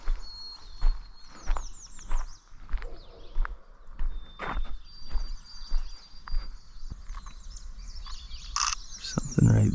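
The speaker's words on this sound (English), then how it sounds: "It's a black and white warbler." A black-and-white warbler sings in the woods in Nova Scotia, high thin repeated notes coming in short bursts at moderate distance, mixed with other bird calls, rustling and footsteps.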